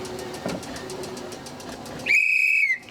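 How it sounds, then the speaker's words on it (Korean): Amid the busy outdoor din of a traditional Korean five-day market, an old man blows a single loud, shrill whistle blast near the end, holding under a second. "갑자기 호루라기를 부는 조만한 할아버지."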